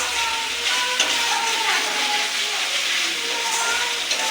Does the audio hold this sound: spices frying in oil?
yes